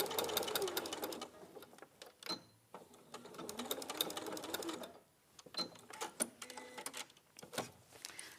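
A sewing machine bastes a zip into place in quick rhythmic bursts of stitching, separated by short pauses, close and fairly quiet with no talking.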